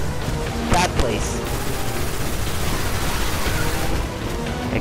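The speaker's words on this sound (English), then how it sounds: "Explosions everywhere." Dense gunfire and explosions from the Destiny: The Taken King video game, a steady barrage of bursts and booms rolling on for several seconds with a brief spike near the start.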